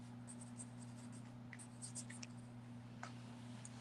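Pencil scratching across paper in short, soft strokes, quiet and close over a low electrical hum.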